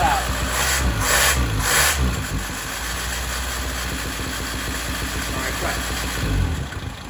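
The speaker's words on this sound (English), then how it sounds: "I can't believe it's idling." A 1975 Honda Civic CVCC engine with a new carburetor idles steadily and close by, a low, even mechanical rumble with brief bursts of louder noise near the start and people talking over it.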